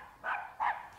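A voice imitates a dog barking in a workshop, giving two short, fairly close 'woof' barks with a brief pause between them.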